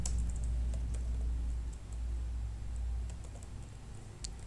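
Code typed on a computer keyboard, with scattered light key clicks tapping at an uneven pace over a low, steady background hum.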